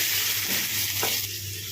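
Cut onions sizzle in a hot pan for a gongura and dried fish curry, a steady close crackle of frying with faint stirring.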